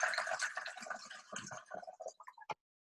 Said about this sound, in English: Let's do a cup of water in this big container.